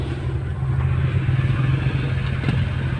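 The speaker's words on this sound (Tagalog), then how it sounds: "pakiramdaman nyo naman na humihinga or parang naghihingalo yung ating makina, tulad nito" A manual car's low, labored engine rumble drones steadily, lugging and sputtering as if straining in too high a gear at low speed.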